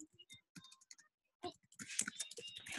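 Clicky keystrokes on a computer keyboard while entering text into an online form, coming in short irregular bursts with brief pauses and then a denser, faster run of typing near the end, close and fairly quiet.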